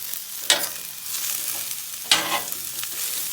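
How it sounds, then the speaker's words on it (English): Vegetables fry on a 22-inch Blackstone griddle at about 375 to 400 degrees, a close, steady sizzle broken by two sharp scraping or clanking spatula strokes, with no voices. "I'm just going to put these veggies on just for a couple of minutes before we add the other stuff."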